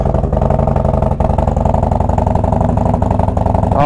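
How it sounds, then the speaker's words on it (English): Harley-Davidson Road Glide motorcycle with a new exhaust idling and revving close by, a loud, steady rumbling pulse holding throughout with a brief rising rev at the end. "this exhaust sounds amazing"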